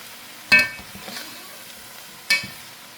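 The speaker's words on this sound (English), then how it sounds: "So when I stir it" A utensil stirs food in a pot, giving two sharp clinks against the metal, each followed by a brief soft scrape over a low, steady background.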